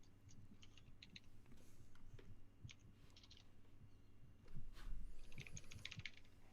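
A computer keyboard clatters quietly and close by in irregular bursts of keystrokes with short pauses between them, over a faint low hum.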